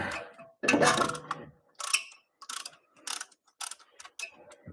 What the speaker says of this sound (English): This is ratcheting. So hold that side, put it in reverse.